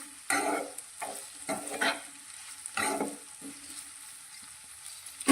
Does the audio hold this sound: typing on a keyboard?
no